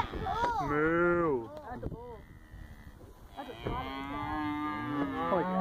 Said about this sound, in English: Look at these cows